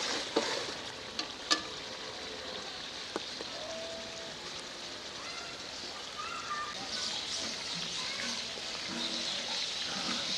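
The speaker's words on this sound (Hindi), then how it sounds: "बटेर को जितना ज़्यादा भूनेंगे उतना ज़्यादा टेस्ट आएगा।" Quail pieces frying in a karahi hiss with a continuous sizzle, joined by a few sharp clinks and taps of a stirring utensil early on, and no speech.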